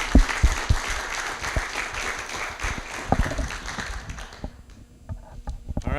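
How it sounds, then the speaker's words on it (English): Audience at a land trust member meeting applauding, a dense wash of many hands clapping with some close, sharp individual claps, gradually thinning out toward the end. "let's please applaud everybody who's helped"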